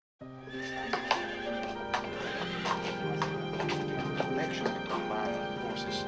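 Polo horses whinny loudly and clearly over steady clip-clopping hooves, starting suddenly and continuing throughout with a sustained tonal background underneath.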